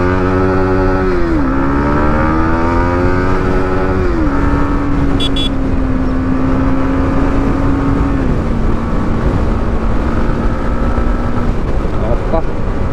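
A 2025 Yamaha MT15 motorcycle engine revs while riding, its tone rising and dropping through gear changes and then settling into a steady loud cruising drone.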